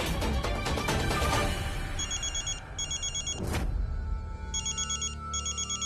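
A home telephone rings in repeated electronic trills, evenly spaced bursts over a background music score with a swooshing dramatic sting partway through.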